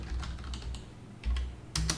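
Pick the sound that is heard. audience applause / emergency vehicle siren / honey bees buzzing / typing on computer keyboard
typing on computer keyboard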